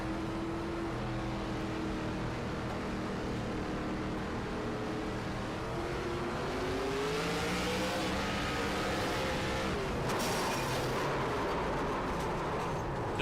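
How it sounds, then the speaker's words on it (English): An ARCA series race car engine roars continuously during a race with shifting pitch, dropping and rising as it changes gears, followed by a brief sharp burst near the end. "I think he grenaded the engine on the downshift"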